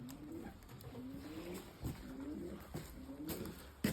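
Soft, low pigeon coos repeat in overlapping rolls, several birds murmuring steadily close by in a quiet, warm enclosed pigeon loft.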